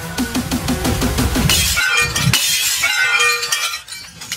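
Regular glass struck with bricks and a sledgehammer: a rapid run of hard knocks, then a loud crash and bright shattering, with shards tinkling and skittering for a few seconds afterward.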